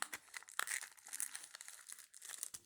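Packaging for a toy is torn and crinkled open in a quiet room, with soft irregular rustles, tears and crackles close by.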